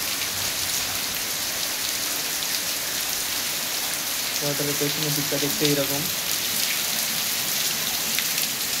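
Heavy rain pours behind railway staff quarters in a loud, unbroken hiss of drops on surfaces, with someone speaking briefly partway through over the downpour.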